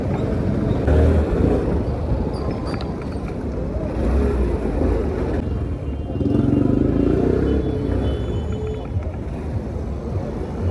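Motorbike engine while riding, a rough continuous rumble mixed with wind buffeting and road clatter, close and steady without talk.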